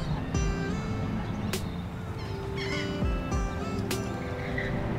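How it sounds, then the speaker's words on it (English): Birds call near the beach in Atlantic City, a few sharp cries and squawks rising over steady wind and surf-like rumble, moderately close. "And more birds."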